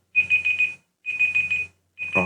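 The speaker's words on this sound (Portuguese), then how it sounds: "esse alarme aqui" A classroom alarm marking the end of class time beeps in three loud, rapid bursts of high electronic tones separated by short silences, with a voice starting under the last burst.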